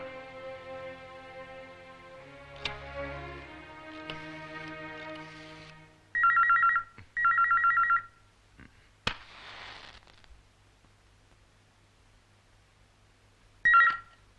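A telephone rings in short repeated electronic bursts during a call, loud and close, with a tonal hum and a few sharp knocks before it, then a final ring after a pause.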